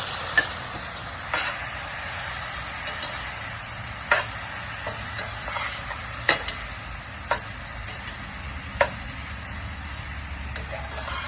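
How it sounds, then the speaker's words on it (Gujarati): Grated khamni is stirred into melted sugar in a pan, with intermittent spoon scrapes and taps over a faint, steady low sizzle. No one speaks. "આ ખાંડ આપણી ઓગળી જાય ત્યાર પછી આપણે આ ખમણી બનાવીને રેડી રાખી છે એ અંદર મિક્સ કરશું."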